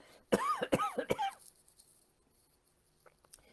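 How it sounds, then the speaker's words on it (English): Three quick, harsh coughs in a row, close up, followed by quiet breathing and faint rustling. "Excuse me while I cough here for a second."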